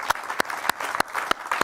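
A TV studio audience applauds a racing driver, dense clapping with a few loud close claps punctuating the crowd noise, brief and without talk.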